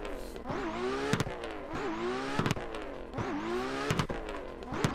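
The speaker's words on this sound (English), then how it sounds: "I love this car sound" A race car from the Inertia Irish Pro Car Pack in a racing video game revs hard through repeated gear changes, its engine note climbing and dropping in a steady cycle, loud and close with sharp clicks at each shift.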